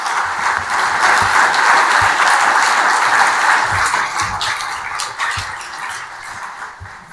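Applause from the audience at an economic forum in Almaty, a dense roomful of clapping that holds strong for several seconds and then gradually tapers off.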